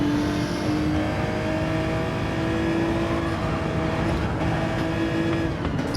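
A Porsche race car in Gran Turismo 7 revs hard on the Trial Mountain circuit, its steady engine whine climbing and shifting pitch as it works down through the gears, loud and continuous with no talk.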